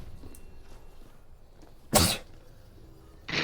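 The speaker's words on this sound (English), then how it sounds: "So you guys get to hear my sneezes" A streamer sneezes twice: one sharp, loud sneeze, then a second burst after a short pause, close to the microphone against a quiet background.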